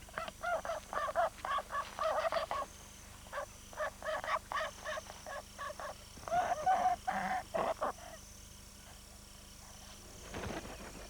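Toucan calling in the rainforest, repeated loud croaking calls in bursts of several notes, fairly close, separated by short pauses over quiet forest ambience.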